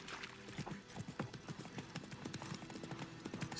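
Roach, a horse in The Witcher 3 video game, clip-clops steadily along with rhythmic hoofbeats, close and clear against a faint ambient backdrop, with a brief word spoken.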